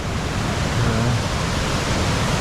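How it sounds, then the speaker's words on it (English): A creek rushes in Yosemite, a steady, broadband roar of flowing water close by, with no voices over it. "Really pretty water flow right now."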